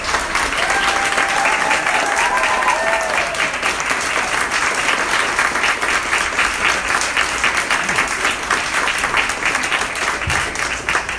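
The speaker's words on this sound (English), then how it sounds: "Please give them a big round of applause." An audience at the opening of a nuclear-themed museum exhibit applauds with steady, sustained clapping that fills the space, a few whistles or cheers rising briefly over it, with no talking.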